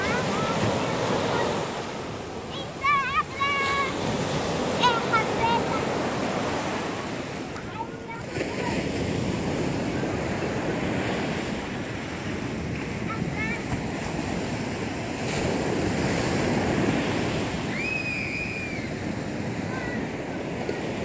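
Sea waves wash onto a beach in a steady roar with strong wind buffeting the microphone, while children's voices and an adult calling out are heard over the surf.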